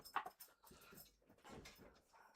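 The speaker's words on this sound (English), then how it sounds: "That there is Enki the dog." Enki the dog lets out a short high whimper near the start, followed by soft scattered whines and faint shuffling in a quiet room.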